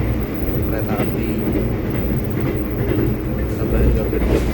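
Tambahan GMR YK passenger train running on rails on the Gambir–Yogyakarta route, a steady loud rumble with faint clickety-clack from inside the carriage, continuous throughout, with a voice talking over it.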